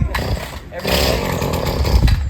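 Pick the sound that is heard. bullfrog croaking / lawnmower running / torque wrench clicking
lawnmower running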